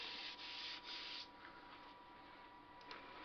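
Steady rubbing of finish into a hand-turned burr olive ash piece: a close, loud, scratchy swishing that comes in short strokes at first, then settles into a quieter continuous rub.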